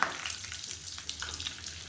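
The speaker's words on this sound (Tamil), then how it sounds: "இது நல்லா பொரிக்கட்டும்" Fennel seeds and curry leaves frying in hot ghee give a quiet, steady sizzle with small crackling pops, close by and without talk.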